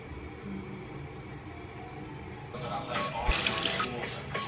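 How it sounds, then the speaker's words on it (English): A bathroom sink faucet runs quietly at first, then makeup brushes are washed under the stream with louder splashing and hissing water for the final couple of seconds. "I'm gonna clean all my brushes."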